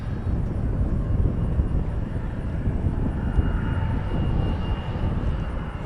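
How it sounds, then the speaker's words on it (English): An American Airlines Boeing 777 moves out of a maintenance hangar at an airport, and its jet engines make a steady, broad rumble at a moderate distance with a little wind noise. "We got an American 777 coming out from the maintenance hangar."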